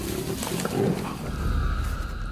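Male lions give deep, rumbling roars and growls in the wild, loud and close, with a low, throaty grumble running through the whole stretch.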